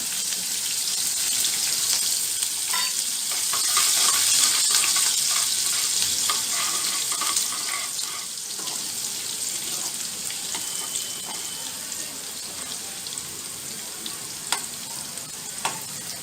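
Green chillies and ginger frying in a pan with cumin and asafoetida: a loud, continuous, close sizzling hiss with light stirring and occasional small pops throughout, with no talking.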